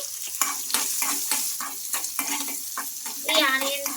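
Chana dal and urad dal fry in a pan with onions and chillies for semiya curd idli, making a continuous sizzle. Repeated stirring scrapes and light utensil clinks run through it, close and fairly loud.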